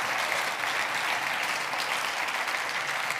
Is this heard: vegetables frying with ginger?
no